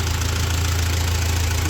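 An old Ford tractor, left out in the rain for years, runs with a steady low knocking engine rumble, close and continuous, no talking.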